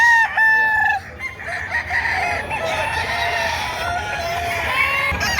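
Gamefowl roosters of the Gilmore Hatch line crowing at a busy livestock market, several loud nearby crows overlapping one another with clucks and general market noise underneath.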